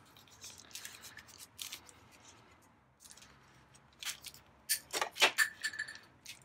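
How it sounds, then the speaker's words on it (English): Snips cutting back the plastic nozzle of a silicone caulk tube, several short sharp clicks and crunches close by, getting louder near the end. "And I'm going to cut this back as far as I can."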